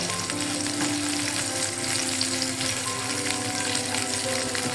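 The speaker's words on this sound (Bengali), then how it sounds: "আমি পেঁয়াজটা একটু হালকা করে ভেজে নেব" Thickly cut onion fries lightly in a pan for chicken chow mein, a steady close hiss of oil running throughout with no talking.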